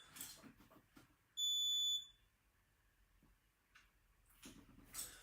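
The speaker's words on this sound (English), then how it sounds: "So there's my CO2 alert still going off, you see." The CO2 warning on the handset of an AP Inspiration closed-circuit rebreather gives a single clear, high electronic beep lasting about half a second, with a quiet room and faint handling noise around it.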